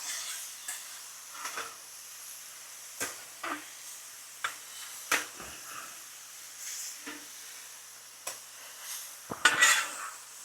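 Chopped vegetables going into a hot pan of Philly cheesesteak meat, with a soft low sizzle under repeated sharp scrapes and clinks of a utensil stirring against the metal, irregular and close.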